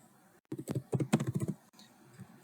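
Quick bursts of typing on a computer keyboard, a cluster of close, crisp keystrokes over about one second, then a short pause and a few softer taps.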